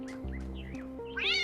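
A video game cat lets out a few short meows over steady electronic music, close and clear with no talking.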